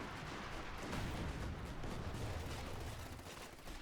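Dense, sustained battlefield gunfire from Company of Heroes 2 rifles and machine guns, a steady wash of rapid shots and distant blasts that holds throughout without any voices.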